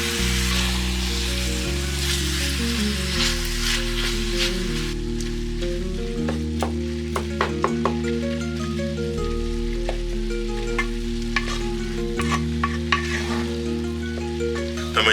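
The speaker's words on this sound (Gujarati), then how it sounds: "મીડિયમ ગેસ ઉપર ખીમાને ઓનિયન અને આખા મસાલા સાથે સરસ શેકાવા દઈએ" Chicken keema sizzles steadily in a pan with onion and whole spices over medium heat, with repeated spatula stirring and scraping clicks over a continuous close frying hiss.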